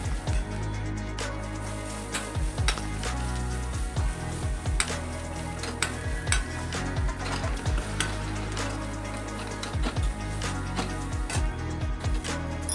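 Egg masala fries in a pan with a steady, close sizzle, broken by repeated scraping and stirring strokes of a spoon against the pan throughout.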